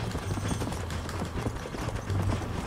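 Rapid rhythmic hoofbeats of a galloping horse in the video game Red Dead Redemption, steady and continuous, mixed with a dense background rumble.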